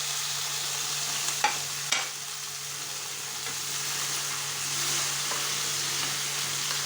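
Tomatoes frying in a pan with bitter gourd (ampalaya) give a steady, close sizzle, with a few brief stirring clatters early on and no talking.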